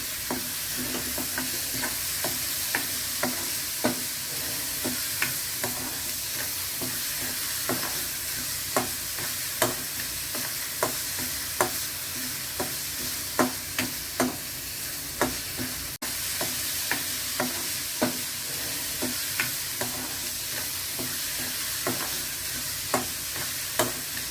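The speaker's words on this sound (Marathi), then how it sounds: "गूळ घालते हे चांगलं परतून घेते" Masala with jaggery sautéing in a pan under a continuous sizzle, punctuated by regular sharp taps and scrapes of a spoon as it is stirred, close and steady throughout.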